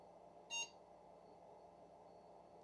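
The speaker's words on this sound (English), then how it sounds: "There's a post beep." One short electronic POST beep from a custom retro PC sounds early, brief and clear against a faint steady hum, then nothing else stands out.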